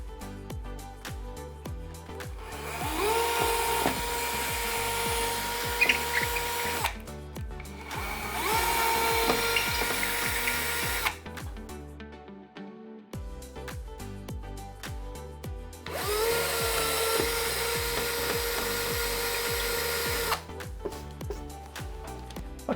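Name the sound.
cordless drill drilling into masonry wall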